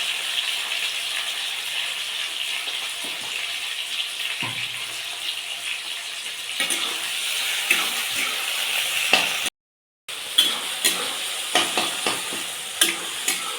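Chopped tomato frying in a pan for a Rajasthani vegetable curry, stirred with a spoon. A continuous close sizzle runs under repeated scraping clicks, with a brief dropout near the end and sharper knocks of the utensil after it.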